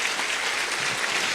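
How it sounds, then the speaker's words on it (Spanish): Loud, sustained applause from a church congregation at a Catholic mass fills the space, a dense, even wash of many hands clapping with no break. "Démosle un fuerte aplauso al Señor."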